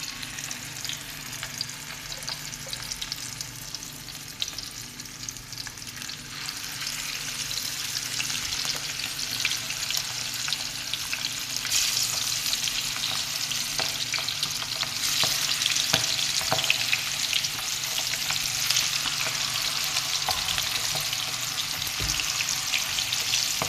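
Fish frying in hot oil in a home kitchen, a steady, dense sizzle and crackle that grows louder partway through, with occasional sharper pops and stirring sounds, close by and with no voices.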